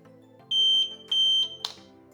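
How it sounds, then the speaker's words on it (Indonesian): Two loud, high-pitched electronic beeps from a power transformer thermal relay test device sound in quick succession, each about a third of a second long, followed by a short burst of noise. "maka akan ada bunyi alarm seperti ini."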